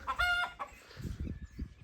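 A chicken lets out a loud squawk, then a run of low, rapid clucks follows close by.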